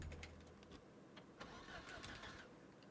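A car engine cranks repeatedly but fails to catch because it is out of gas, in a zombie survival video game; the churning starter sound is moderately quiet and lasts a few seconds.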